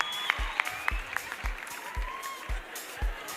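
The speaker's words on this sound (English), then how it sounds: "One more time, a round of applause for Prima Doti" Audience clapping at a youth empowerment week event in the Vaal, fairly faint and loose, with sharp low thumps recurring roughly every half second and a few brief tonal whistles or squeaks over the room.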